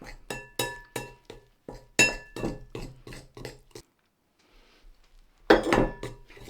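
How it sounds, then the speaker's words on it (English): A knife clinking against a bowl while mixing flour and milk into Cornish scone dough, rapid irregular taps and scrapes in bursts, a brief pause, then a louder flurry of clinks near the end. "Now I use a knife to mix this."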